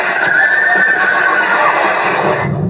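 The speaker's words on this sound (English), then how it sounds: "At this farm, trainers forced to set their horses free with no time to lead them to safety." Horses at a farm during a wildfire evacuation neigh loudly and close up, one long shrill whinny filling most of the moment with faint hoof clatter beneath, alone with no voices.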